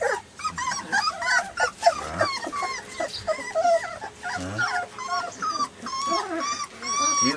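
A puppy whimpering and whining in high, wavering cries, mixed with short yips and a brief low growl, close and fairly loud in bursts throughout.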